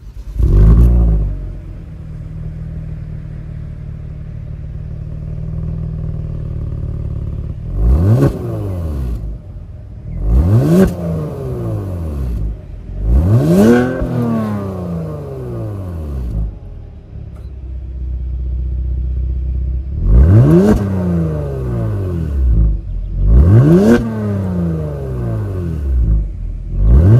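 A 3.3-liter twin-turbo V6 in a 2024 Genesis G70 idles with a low rumble, then is revved hard again and again in sharp bursts, each rising and falling, loud and close.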